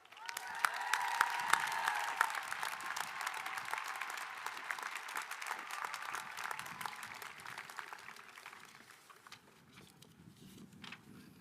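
Audience at a Hickory undergraduate and graduate commencement ceremony applauding the Class of 2026, a broad, sustained ovation from a large crowd in a big hall, with a faint voice over it early on, gradually tapering off toward the end.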